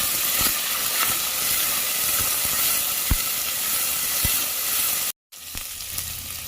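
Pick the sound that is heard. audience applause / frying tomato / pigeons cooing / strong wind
frying tomato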